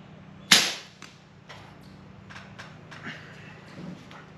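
An air rifle fitted with an Impulse Air moderator fires one sharp, close crack, followed by a few softer scattered clicks and taps in a quiet outdoor setting.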